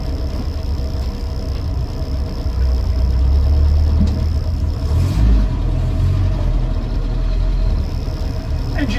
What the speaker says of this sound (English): Engine sounds pretty sweet on this one.